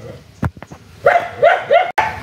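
A pet dog barks nearby in a rapid run of three or four loud barks after a few soft knocks and clicks. Voices may be faintly mixed in.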